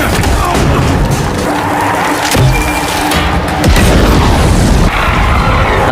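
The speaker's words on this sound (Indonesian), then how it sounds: "dengan melepaskan tembakan peledak" An explosive gunshot in a film scene lands as heavy booming blasts and crashes over a dense, rumbling action soundtrack, loud and close, with a few distinct impacts spread across the few seconds.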